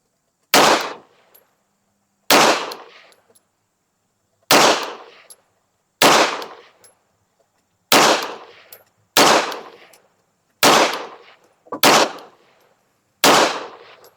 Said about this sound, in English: we got the first 10 rounds loaded up in the Beretta APX Tactical